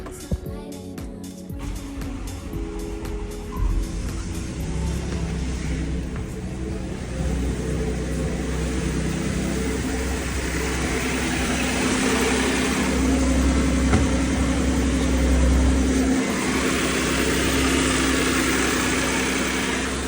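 Supercharged Audi 3.0-litre engine idles steadily after a PCV valve replacement, a continuous low rumble with mid-range hum that holds at a constant level for the full span, close and alone.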